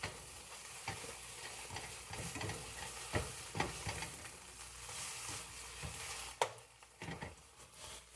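Scrambled eggs sizzle and fry in a pan, with a steady crackling hiss and scattered clicks of stirring and scraping at close range and no talk.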